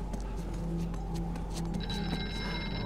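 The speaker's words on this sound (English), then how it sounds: "And the phone rings." A telephone rings in the VR horror game Here They Lie. Bright ringing tones start partway through over a busy background of ticks and rumble, moderately loud, with no speech.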